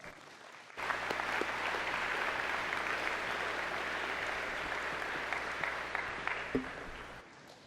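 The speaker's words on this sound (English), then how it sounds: "Let's give these graduating seniors a big round of applause." An audience at a high school graduation applauds the graduating seniors, a dense wash of clapping that rises suddenly, holds steady for several seconds, then thins out and stops.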